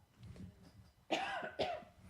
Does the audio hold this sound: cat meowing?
no